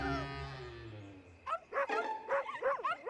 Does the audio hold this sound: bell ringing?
no